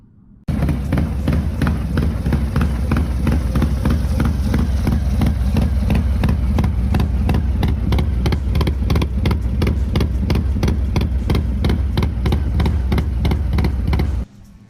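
A 2020 Harley-Davidson Sport Glide fitted with a Vance & Hines high output 2-into-1 exhaust, cam and intake idles loud and close, its deep lumpy exhaust pulses thumping in a steady rhythm for most of the clip before cutting off near the end.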